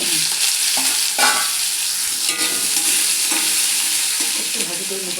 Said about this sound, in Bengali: সিদ্ধ আলুটাকে সিদ্ধ করে রাখছি আগে, এখন অল্প ভাজি করে নেব,